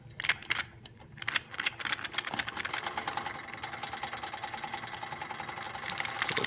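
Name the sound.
Wilesco D455 model steam engine running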